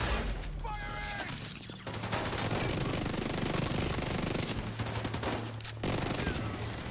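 Rapid gunfire from The Division 2 shooter game, dense bursts rattling almost continuously over a low rumble, loud and sustained with brief gaps.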